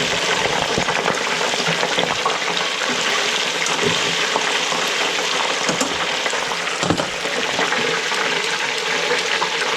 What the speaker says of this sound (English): How about that deep fried broccoletti?